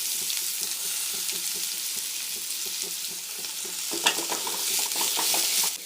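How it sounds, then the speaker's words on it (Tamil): Chopped onions fry in oil for chicken curry, giving a steady close sizzle with soft stirring scrapes, and a louder burst of sizzling and clatter near the end. "வெங்காயம் நல்லா வதங்கட்டும்"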